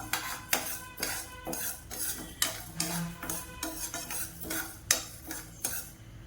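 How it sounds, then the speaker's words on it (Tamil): Raw white rice is stirred as it dry roasts in a pan, with a spoon scraping and tapping the metal in an irregular rhythm of sharp clinks over a soft rustle, close and fairly quiet, with no speech. "அரை கப்பு அரிசி பச்சரிசி பச்சரிசி சேர்த்துக்கோங்க இப்போ இதையும் நல்லா வறுத்துக்கணும்"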